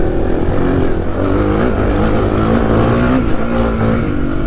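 A Suzuki DR 350 enduro motorcycle climbs a steep, rutted hill, its single-cylinder engine loud and close with a rising, pulsing note as the revs climb and fall.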